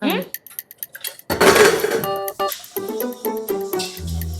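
Dishes and vessels that were already washed get washed again, with clinking pots, cutlery and glassware close by under a speaking voice and a short run of water.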